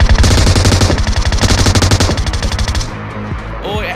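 In PUBG Mobile, a long burst of rapid automatic rifle fire rattles close and loud for nearly three seconds, then cuts off, leaving faint scattered sounds.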